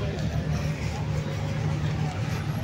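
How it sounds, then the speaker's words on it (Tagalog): Crowds of motorbikes and scooters hum and rumble along a busy Naples street, engines droning continuously close by, with voices chattering over the traffic. "Oh, ang daming motor, oh."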